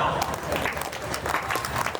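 An audience at a Hindi comedy poetry gathering claps in a brief, dense burst of applause, with a voice speaking over the clapping throughout.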